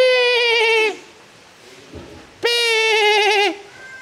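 Newborn calf calling on a Vietnamese farm: two loud, drawn-out wavering bleats close by, separated by a quiet gap with faint background noise.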